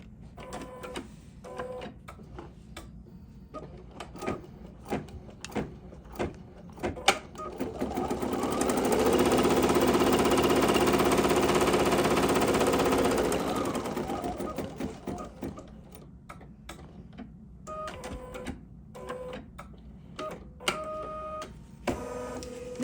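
A computerized embroidery machine stitches out a gold design on hooped fabric, a rapid mechanical whirring and clatter that swells into a steady, louder run in the middle before dropping back to sparser stitching pulses, with no voices.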